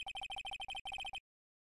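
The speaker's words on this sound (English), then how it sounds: "I know that song your phone plays when it rings." A mobile phone ringtone plays the Steel Samurai theme from a video game as a quick run of bright, evenly pulsed electronic beeps in two bursts, clear and alone, stopping abruptly after about a second.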